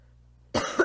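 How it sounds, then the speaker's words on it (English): A single person coughs abruptly after near silence, a harsh burst followed by two quicker rough coughs, close and loud. "Got a bit of a cough right now."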